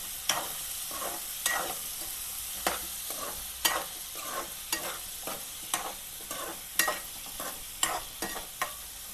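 Turmeric being stirred into a ridge gourd and meat curry in a pan: regular scraping strokes of a spoon, roughly one per second, over a soft sizzle, close up with no talking.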